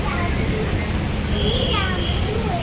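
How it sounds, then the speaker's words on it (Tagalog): Steady rain falls outdoors as a constant hiss and patter, with people talking nearby throughout. "And it's raining."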